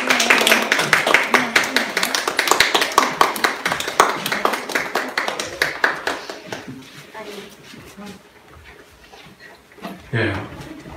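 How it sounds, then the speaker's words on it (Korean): A church congregation claps together at a Sunday service, a rhythmic run of sharp, fairly close hand claps that grows fainter and trails off after about six seconds, followed by a little murmuring. "박수 한번 할까요?"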